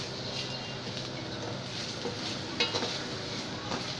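Chopped onion sizzles steadily in a hot pan while a utensil stirs it, giving a continuous close frying hiss with a few scraping strokes near the end.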